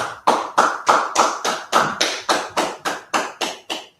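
Clapping in unison during a Monday law class: about thirteen loud, close, evenly spaced claps in a steady rhythm, each sharp and distinct with a brief gap before the next.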